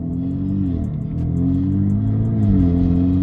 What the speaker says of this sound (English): finally the car got some noise at low RPM